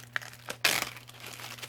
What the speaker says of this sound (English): that's a plastic bag because I'm making a deck or a bag for this